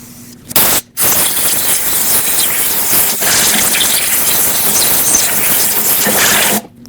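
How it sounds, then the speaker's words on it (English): Compressed air blasts into the intake manifold ports of a 2006-2015 Lexus IS250 in a loud, steady hiss lasting several seconds, with a short burst before it and a brief gap, no voices. "use some compressed air to blow it out"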